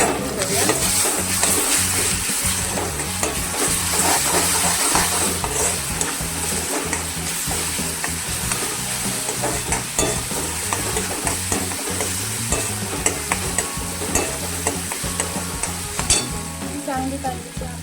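Ginger garlic paste fries in a hot pan with cinnamon and star anise, giving a loud, continuous sizzle with steady stirring and scraping throughout. No one speaks.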